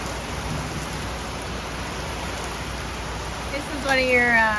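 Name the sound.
thunderstorm with heavy rain and thunder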